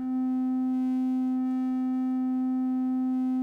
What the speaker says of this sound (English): right at the beginning, you get even cleaner triangle wave sound, right? Fewer harmonics.